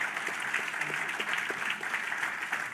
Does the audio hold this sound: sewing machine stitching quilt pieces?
no